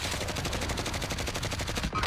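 Gunfire in the video game Call of Duty: Warzone comes as dense, rapid automatic bursts that fill the whole moment, loud and continuous, like machine-gun fire.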